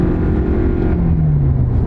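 A Toyota Prius accelerates hard, its engine note rising in a loud, close continuous drone that holds through the whole stretch without speech.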